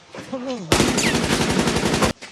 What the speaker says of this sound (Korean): 독일군으로 오해받아 총알 세례를 받게 됩니다